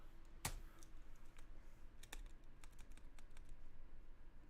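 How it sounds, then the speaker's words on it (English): Square bracket keys on a computer keyboard are tapped while resizing a brush in Photoshop during an illustration, giving scattered sharp clicks, one louder press followed by quieter irregular taps, close and fairly faint. "that clicking you can probably hear is me doing the square brackets to make my brush bigger or smaller"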